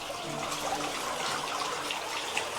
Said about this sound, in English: Water's flowing well.